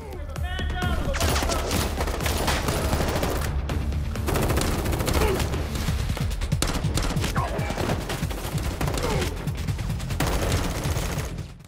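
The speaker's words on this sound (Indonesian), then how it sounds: "Di tengah baku tembak, Kim" Dense, sustained gunfire in an action film shootout, rapid overlapping bursts and booms with a dramatic score underneath, loud and continuous, with occasional voices mixed in.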